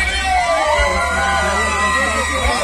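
Dragões Vermelho supporters cheering at a society football final, a loud steady crowd roar with whistles and siren-like horns, with a voice over it.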